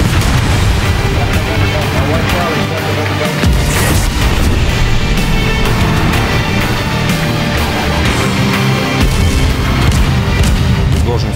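Heavy gunfire from the USS New Jersey battleship in battle: a continuous dense roar of booming blasts and rumbling explosions, loud and close throughout with no pause.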